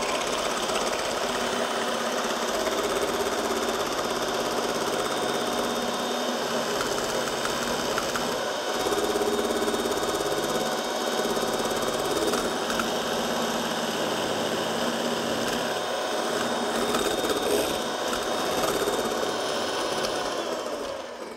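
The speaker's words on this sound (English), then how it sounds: "So we start mixing. I'll use the mixer." An electric hand mixer whisks egg whites in a kitchen, giving a steady, loud, continuous motor whir with a slight rattling buzz that holds for about twenty seconds, with no talking.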